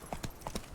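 Horse hooves clip-clopping in the video game The Witcher 3, a few quick close hoofbeats in a short burst.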